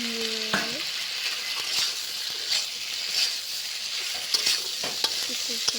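Vegetables including brinjal for shukto are sautéed together in a hot pan, a continuous sizzle broken by repeated scraping stirs from a spatula, close and without speech.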